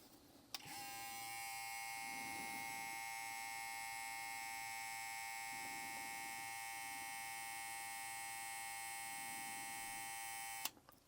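A BaByliss FX1 hair clipper on its low speed setting hums steadily and alone for about ten seconds, a bright buzzing whine that starts and stops abruptly.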